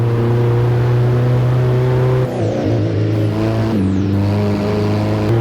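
A steady, droning car engine in the racing game Assetto Corsa hums loudly throughout, with two quick revving shifts in pitch as the vehicle changes gear; no voices.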